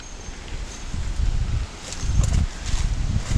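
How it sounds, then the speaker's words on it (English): Wind gusts blowing outdoors in a garden, a steady rough rumble swelling and easing in waves, close and fairly loud with some rustling, no voices. "Oh yeah, that wind's getting up."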